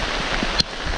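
Steady light rain patters on a surface in the open outdoors for a brief moment, with a single small knock partway through.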